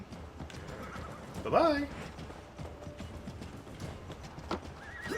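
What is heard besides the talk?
horse galloping and whinnying in video game AC Valhalla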